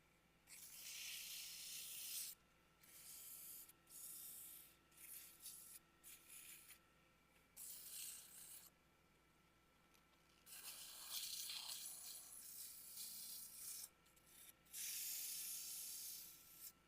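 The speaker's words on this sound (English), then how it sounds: "You really want to sand this before you take it off." Sandpaper rubs against a spinning wooden goblet on a lathe, making soft, repeated hissing bursts that start and stop in short spells, faint and close, with no talking.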